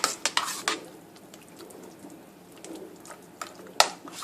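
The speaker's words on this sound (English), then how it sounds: "I'm just going to stir that through" Cauliflower, bacon and leek mash being stirred in a pot, with a few sharp scraping clinks of the utensil against the pan at the start and near the end, and a soft, quiet churning in between.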